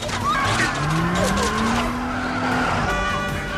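Cars race in a Fast & Furious film scene, with loud, continuous engine roar and long rising tire squeals as they skid close by.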